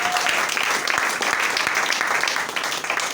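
A church congregation claps at a sermon, producing dense, continuous applause from many hands that stays loud and even from start to finish.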